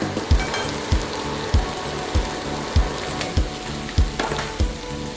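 Luffa stir-fried with egg and fresh shrimp in a pan, a steady sizzle broken by about eight regular low thumps of the spatula, close and with no talk.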